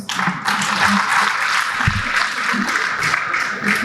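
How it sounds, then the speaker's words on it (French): A crowd applauds steadily, a continuous wash of clapping with some voices mixed in underneath. "ça mérite des applaudissements"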